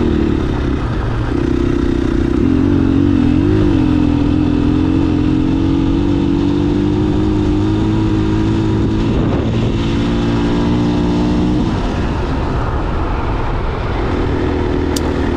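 A 2021 KTM 500 EXCF dual-sport motorcycle ridden on a southern Oregon ride, its engine droning loud and close with rising and falling revs and a few gear changes, no voices.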